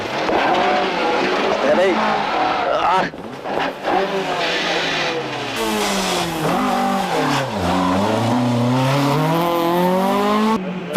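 Ford Escort Mark II rally car on a gravel stage, its engine revving hard and rising and falling through the gears, loud and close, with a co-driver's voice calling briefly over it.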